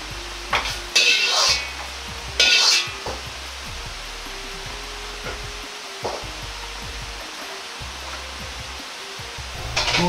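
Eggs being stir-fried to half-set in an oiled pan, with a steady low sizzle and scattered utensil scrapes and clinks against the pan, close and fairly loud, with a couple of brief sharper scraping bursts and no talking.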